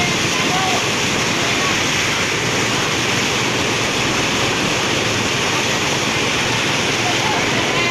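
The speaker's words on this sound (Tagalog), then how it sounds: "Grabe, lakas ng tubig. Nakakatakot." Strong rushing floodwater during Typhoon Ulysses in San Luis, Pampanga, a loud, steady broadband roar of churning water that holds without a break from start to finish.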